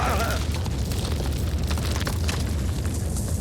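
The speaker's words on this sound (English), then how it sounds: "Explosion in the generator room." A dense, rumbling blast of noise with heavy low-end roar, steady and loud throughout, like an explosion echoing in an enclosed space.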